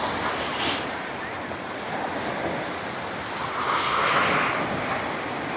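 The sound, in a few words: eastern wind and rough sea at the Tall Ships parade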